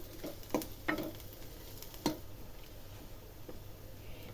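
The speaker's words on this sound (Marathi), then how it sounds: "त्याच्यामध्ये टाकायचं एक ते दीड इंच आलं ते सुद्धा चांगलं व्यवस्थित परतून घ्यायचं" Ginger sautés in a pan for a dhaba-style paneer matar curry with a low, continuous sizzle, broken by a few distinct stirring clacks and scrapes. The sound is close but quiet.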